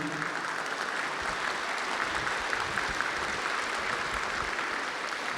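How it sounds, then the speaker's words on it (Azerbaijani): Children at an award ceremony in a large congress hall applauding their parents, a dense, sustained wash of clapping from a big crowd that holds steady throughout. "Öz valideynlərinizə təşəkkürünüzü bildirərək alqışlayın."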